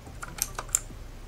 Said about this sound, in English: playing with a keyboard as a mouse probably isn't a good idea